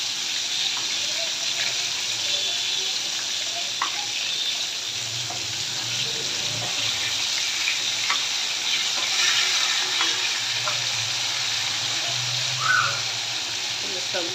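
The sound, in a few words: hilsa fish frying in oil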